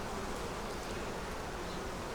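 Honey bees buzz in a dense, steady swarm around a hive in South Carolina, a continuous close drone with no pauses and no talking.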